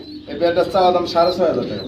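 A pair of American Lahore pigeons: one coos close by in a few soft, throaty rising-and-falling phrases, clear and fairly loud over a short stretch.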